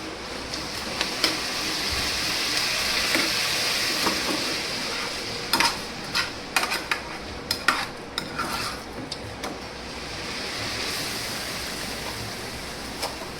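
Tomatoes cooking in a pan on the stove with a steady soft sizzle, and a run of close metallic clinks and scrapes from stirring the pan.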